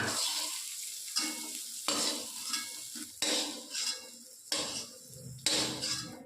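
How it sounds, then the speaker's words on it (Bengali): Green beans sizzle in a little hot oil for mixed fried rice while a spatula scrapes and tosses them about six times in a regular rhythm, metal clinking against the pan. "বিনসগুলো আমরা হালকা লাল লাল করে ভেজে নেবো বন্ধুরা"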